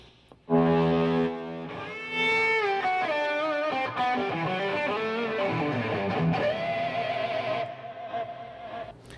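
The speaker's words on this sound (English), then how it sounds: "And also a couple of cool lead sounds." A distorted electric guitar plays a sustained lead line with bending, singing notes, loud and close, ringing out alone before fading.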